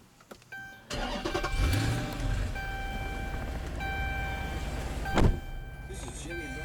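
A 2014 Dodge Charger SRT8 with a 6.4L Hemi V8 is push-button started, the engine catching with a loud crank and rev before settling into a steady rumbling idle, with a brief revving swell near the end and a chime tone throughout.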